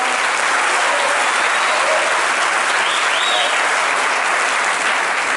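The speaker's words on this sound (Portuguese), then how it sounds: "Você faz assim, você pode aplaudir melhor." Congregation applauding during a church service, a dense, loud wall of clapping held steady from start to finish with faint voices mixed in.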